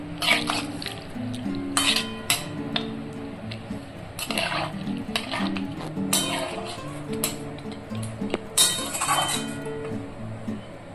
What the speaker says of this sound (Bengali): বাটি ধোয়া জল আমি দিয়ে দিলাম, এটা ভালো করে মিক্স করে দিলাম আমি